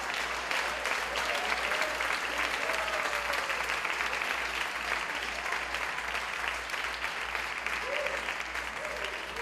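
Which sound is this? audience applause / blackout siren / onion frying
audience applause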